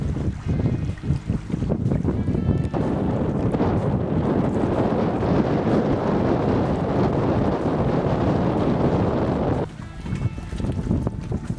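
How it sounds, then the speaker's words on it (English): Strong wind gusting over a Cessna 172 floatplane on a remote Canadian Barrenland trip, loud steady buffeting rumble with water and boat noise that eases near the end, no talk. "Boy, getting windy, Jim."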